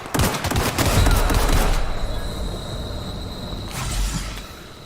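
Dense bursts of gunfire in the video game The Outer Worlds, a loud rapid volley lasting about two seconds, then quieter rumbling and a second shorter burst near the end.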